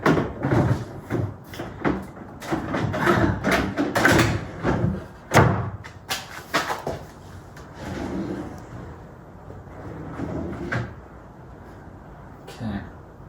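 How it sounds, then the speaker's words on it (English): A bottom drawer is fitted into a handmade cabinet, with wooden knocks, sliding scrapes and a few sharp bumps close by, then quieter fiddling and a light clack near the end. "I'm putting in the bottom drawer for the first time."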